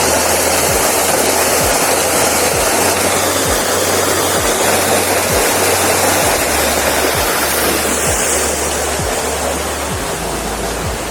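A Northumberland waterfall with a deep plunge pool roars steadily and loudly, a dense unbroken rush of falling water heard up close with no voices, and a faint low rhythmic thumping underneath.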